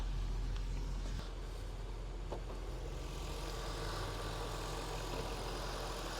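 A 4-litre V8 engine idles steadily under an open hood with a low, even rumble, heard close and alone, with no voices.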